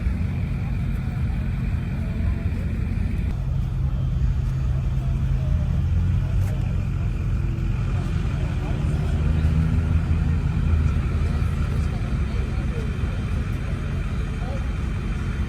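A McLaren sports car at a car meet gives off a steady, close, deep engine rumble that runs throughout, swelling slightly midway, with voices talking over it.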